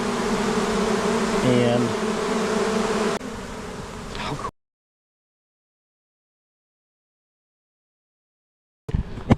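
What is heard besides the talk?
honeybees swarming into a HiveIQ beehive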